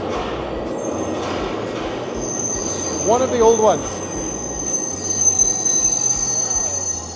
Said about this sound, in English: train is coming along rather loud